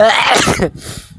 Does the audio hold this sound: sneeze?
yes